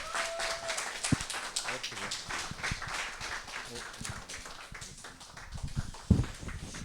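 A morning assembly audience claps to welcome an arriving sponsor, a busy, moderately loud stretch of applause with a few sharper knocks and thumps mixed in.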